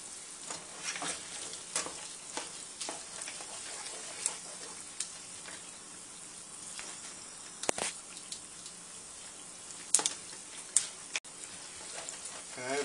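Animal fat rendering down into tallow in a pan over medium-high heat, with a continuous busy sizzle and crackle punctuated by sharper pops and ticks, with a person talking over it.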